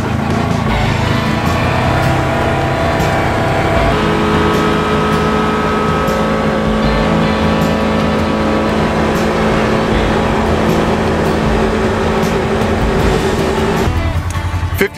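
A Polaris Ranger Highlifter Crew side-by-side fitted with big tires running flat out in a top-speed test, its engine droning loud and steady with a gear or pitch shift partway through and wind rushing over it.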